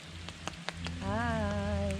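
Rain falling in a Victorian rainforest, a steady soft patter with scattered drops, fairly faint, while a voice briefly greets and a tonal, voice-like hum rises in the second half.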